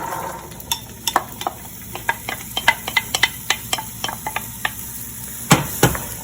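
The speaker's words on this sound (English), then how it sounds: "Give it a little stir to coat all the vegetables." Diced celery, onion and poblano peppers stirred in a hot pan, a steady sizzle under a run of sharp utensil scrapes and taps against the pan, with two louder clanks near the end.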